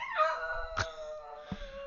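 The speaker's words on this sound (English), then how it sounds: "The dog has decided to talk." A dog whines and moans in drawn-out, wavering cries, with a short sharp bark or yelp near the end, fairly close indoors.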